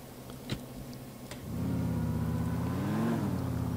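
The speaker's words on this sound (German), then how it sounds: "Jetzt wollte ich doch tatsächlich mit meinem Auto abhauen." A car in Grand Theft Auto IV starts up and drives off, its engine swelling from a quiet idle into a loud, sustained revving drone with rising pitch, preceded by a couple of brief knocks.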